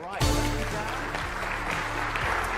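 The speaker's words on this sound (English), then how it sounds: "We've done all the clapping already." Audience applause fills a conference main stage as a guest speaker is welcomed, a steady dense wash of clapping with music playing underneath throughout.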